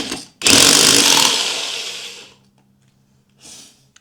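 A power drill bores a hole while a motorcycle security system is being installed, whirring loud and close for about two seconds after a brief start, then a short second burst after a pause.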